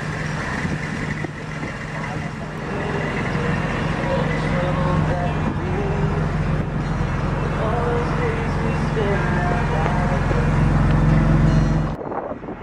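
A 2002 BMW M3 Coupe with SMG gearbox idles steadily, its engine and exhaust a continuous low rumble up close, with a voice talking over it before the sound cuts off abruptly near the end.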